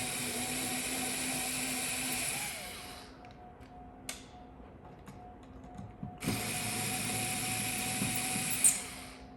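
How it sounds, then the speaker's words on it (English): A driver fitted with a #1 Phillips bit backs small screws out of a Ryobi lithium-ion battery pack, giving a close mechanical whirring with a gap of quiet ticks partway through before the whir resumes. "So I get a #1 Phillips bit, and just unscrew these."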